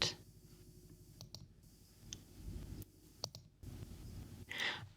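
Mouse clicks on a computer's create button in a teaching app, several sharp, close, isolated taps scattered over a quiet room background.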